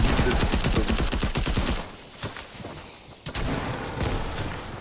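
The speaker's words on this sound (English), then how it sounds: "The other guy's trying to shoot you." Dense gunfire in a shooter video game, a loud rapid fusillade of overlapping shots that thins out midway, then a few scattered shots and crackling bursts return near the end.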